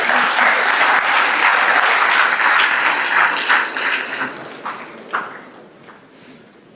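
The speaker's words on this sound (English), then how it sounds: "Can we give them a big round of applause?" Applause for a team at an annual tech talk: a full, dense clapping crowd that holds steady, then thins out into scattered claps and fades toward the end.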